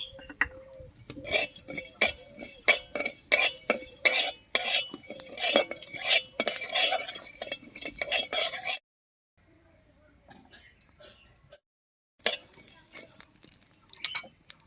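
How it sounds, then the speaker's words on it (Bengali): A spoon or spatula clinks and scrapes repeatedly against a dry pan while whole cumin, coriander and garam masala roast without oil, a busy rattling run that stops, then faint scattered scrapes. "এবার শুকনো খোলায় কয়েকটা মশলা ভেজে নিব"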